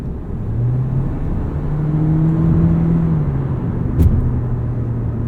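A 2023 Toyota Prius Limited AWD in sport mode holds a steady engine drone from inside the cabin, its tone rising slightly then settling, with a brief knock near the end and no talk.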